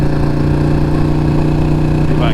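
A 2020 Ducati Panigale V2 motorcycle engine running steadily and loud while being ridden on the road, a continuous close drone.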